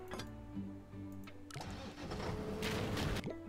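A car rolling across a player-built bridge in Poly Bridge 2, with steady mechanical game sounds, a clicking, ticking start and then a louder rattling, rumbling passage that builds and cuts off near the end.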